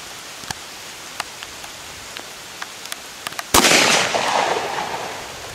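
A .38 revolver fires a single sharp shot into a watermelon outdoors, a sudden loud crack followed by a fading noisy tail, after a stretch of faint scattered clicks.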